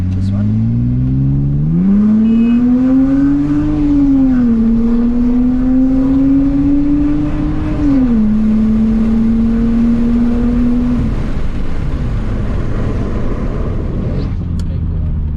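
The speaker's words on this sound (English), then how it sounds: "I'm gonna keep quiet quickly for a couple of minutes and just let you listen to the car." Interior sound of a Lexus IS 300 accelerating hard in the rain: a loud engine drone climbing in pitch through the gears, with sharp drops at two shifts, then easing off near the end.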